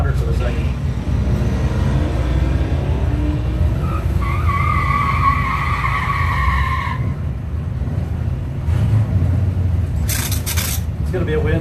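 Drag race between a Mopar Dart and an '89 Chevy S10 with a 383 engine: loud, sustained engine roar with tire noise, under continuous announcer commentary.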